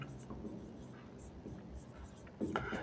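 A pen scratches across paper while working a class 6 area problem: faint, short writing strokes, quiet and close, with soft voice sounds at times.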